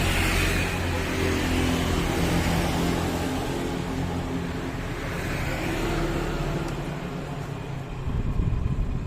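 An electric fan running steadily on its lowest speed while oscillating, giving a continuous broadband whirring hum with low-frequency motor drone, a slight swell and dip as the head turns, with no talking.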